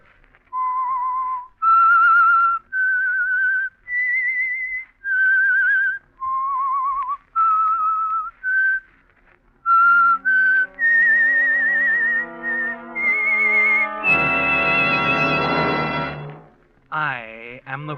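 A lone whistler carries the eerie, wavering theme of The Whistler radio program, a slow melody of separate sustained notes, before an orchestral swell joins near the end.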